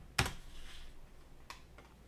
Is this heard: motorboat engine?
no